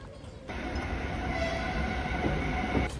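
Inside a moving express train, a steady loud rumble of wheels and carriage noise runs throughout, with a thin high whine and a short louder rattle near the end.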